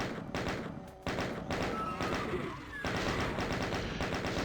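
Rapid chain gun fire from the video game DOOM rattles steadily in fast repeated shots, loud and close, with thuds and game effects mixed in.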